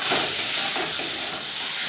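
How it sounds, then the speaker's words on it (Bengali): Meat frying in oil in a pan is stirred, giving a steady close sizzle with faint scraping clicks from the stirring and no talk. "আর একটু নেড়ে নেব। দেখো, মাংস থেকে তেলটা ছেড়ে এসছে।"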